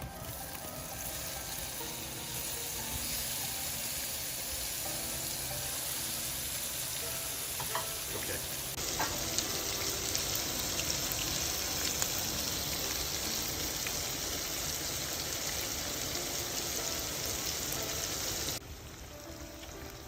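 Shrimp frying in a hot pan with garlic, a steady, dense sizzle that holds close and loud for the whole stretch, with faint stirring and clatter underneath.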